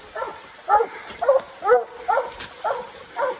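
Coon hunting dogs bark and bay repeatedly at a distance while treeing in Tennessee, roughly two calls per second in a steady series, with faint high insect buzz behind them.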